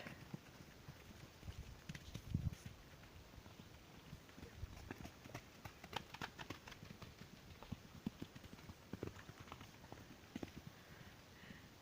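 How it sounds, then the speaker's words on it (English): Soft hoofbeats from horses walking out to a field at a distance, an irregular clip-clop patter over faint outdoor background. "the horses will come out of their main field that they have access to all night into their day field"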